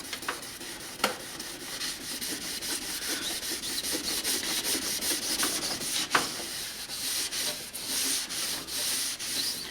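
Tail light lenses being wet sanded by hand with fine-grit sandpaper, a steady close scratchy rubbing that runs throughout, with a few sharp clicks along the way and no talking.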